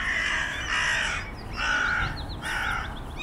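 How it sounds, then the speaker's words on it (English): Crows cawing loudly in a Finnish forest, several harsh, raspy calls in a row with short gaps, strong and fairly near, with fainter high bird notes between them and no talking. "the birds are making very loud noises again"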